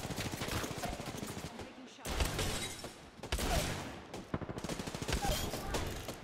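Rapid bursts of gunfire in the video game Apex Legends, loud and close, crackling in quick repeated volleys with brief pauses between them.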